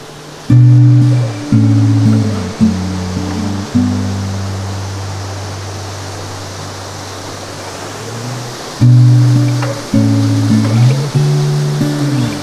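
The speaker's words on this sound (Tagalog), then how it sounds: "Malakas yung current ng tubig, pero yung quality ng tubig malabo pa rin." A strong river current near Paniguian Falls in Cavite, swollen after rain, rushes as a steady broad wash beneath loud, stepped droning tones that come and go across the recording.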